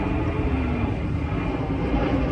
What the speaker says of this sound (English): maybe you can hear a plane going overhead